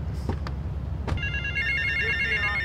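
A telephone rings in the video game GTA Vice City, a steady electronic trill beginning partway through and sounding over low game ambience, with a few brief clicks before it.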